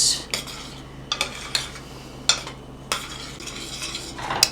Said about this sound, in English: It says to stir it constantly as to not burn your marshmallows.